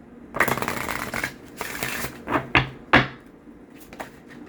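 Sacred Light Oracle cards are riffled and shuffled in a series of crisp, papery bursts, a few longer runs followed by short snaps, close up with no talking.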